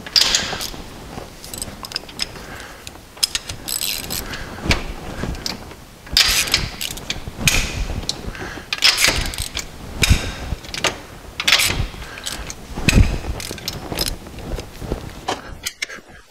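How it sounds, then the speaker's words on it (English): Ratchet with a 13/16 inch spark plug socket working spark plugs out of a B18/B20 engine, giving repeated close clicking and creaking bursts in uneven runs, with faint handling noise between them and no talk. "popping out the spark plugs, fairly large-ish ratchet needed, and that's a 13/16 inch spark plug socket"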